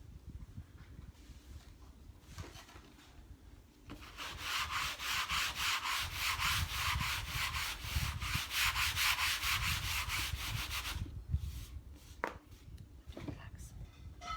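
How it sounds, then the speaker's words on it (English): Close, quiet hand sanding rasps in quick, rhythmic back-and-forth strokes for about seven seconds, set apart by softer handling sounds before and after. "Well, maybe I should sand."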